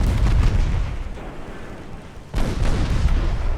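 Booming launch in the naval game Ultimate Admiral Dreadnoughts, set in an 1896 French campaign, two heavy rumbling blasts with a lull between them, loud and close with no talk.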